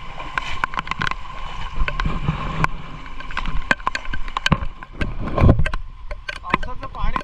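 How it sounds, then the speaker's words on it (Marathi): Floodwater from a rain-swollen river rushing fast toward a dam, a continuous turbulent gurgle and splash with sharp clicks and a louder surge near the end, under occasional talk. "पाणी बघा एकदम वेगाने जात आहे धरणाच्या दिशेने"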